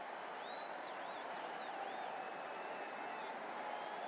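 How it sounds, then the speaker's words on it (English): Video-game cricket crowd murmuring in a stadium, a steady distant wash of many voices with faint whistles rising and falling over it, continuous and even. "the crowd are getting fidgety. They're starting to murmur a bit."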